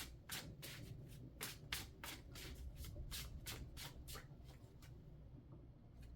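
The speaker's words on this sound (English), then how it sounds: "Let's pull some more cards." A deck of tarot cards is shuffled by hand in quick, crisp riffles and flicks, repeated many times at close range before slowing near the end.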